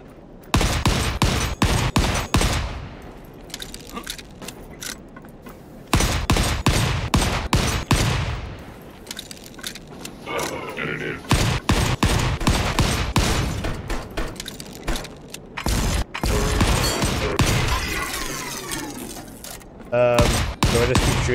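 Rapid bursts of gunfire from the Volcanoids video game, loud repeated volleys of shots with short pauses between them, with someone talking in between the bursts.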